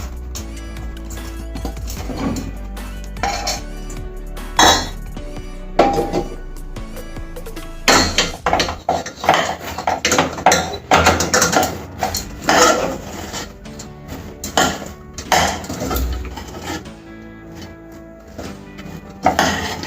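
A spoon stirs puffed jowar into a laddu mixture in a metal vessel, producing irregular scraping, clinking and rattling bursts, close and busy, with short pauses between rounds of mixing.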